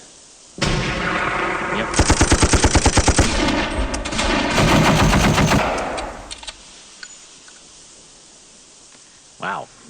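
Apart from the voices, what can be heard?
gunfire in the video game Steel Panthers: World at War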